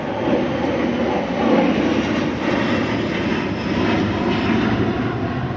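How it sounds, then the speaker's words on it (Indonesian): An airplane passes overhead with a continuous loud, broad engine roar that holds steady throughout, rumbling with no talk over it. "Nah, itu pesawat udah lewat."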